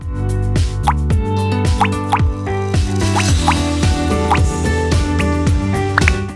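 Food colouring drips into a tray of milk in a home science experiment, a steady series of close, distinct plops and drips repeating about every half second, alone without talk.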